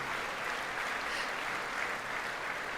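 Steady, dense clapping at a State of the Union address, an even wash of applause at moderate distance with no gaps.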